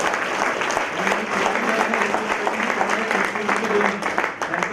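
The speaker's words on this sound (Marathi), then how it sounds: "तर एकदा जोरदार टाळ्या असून द्या." An audience at a talk event breaks into loud, sustained applause, a dense wash of clapping that fills the whole stretch without letting up.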